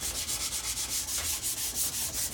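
Wood being sanded by hand with a Rockler angled contour sanding grip, quick regular back-and-forth rasping strokes about five per second, close and steady with no talk.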